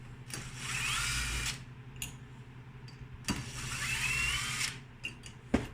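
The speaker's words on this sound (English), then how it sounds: "and then I hook up the drill because it saves me that much time" A power drill whirs in two sustained bursts as it backs bolts out of a Minn Kota Maxxum trolling motor, with clicks and clanks of metal between runs.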